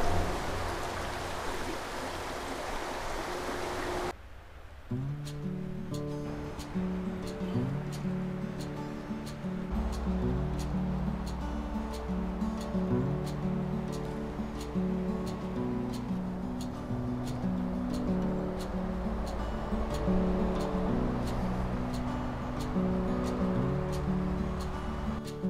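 Flowing river water in a woodland setting, a steady broadband rush running continuously and fairly close, with a brief muffled change early on and a low rumble joining partway through.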